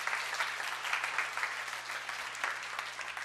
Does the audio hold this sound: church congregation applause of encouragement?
yes